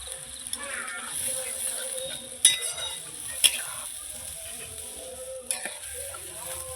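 Fish curry masala sizzles and fries in a pan as water is added, with a steady hiss broken by a few sharp clinks of a spoon against the pan, fairly quiet and close.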